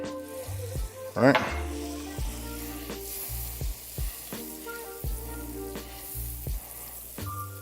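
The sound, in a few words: butter melting and sizzling in a skillet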